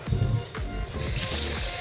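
Rice swished and squished by hand in a bowl of water while being washed for soaking, wet sloshing and a few dripping splashes close up, with no talk.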